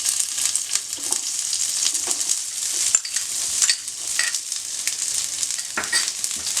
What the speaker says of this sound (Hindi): और इसको अच्छे से सौटे करूंगी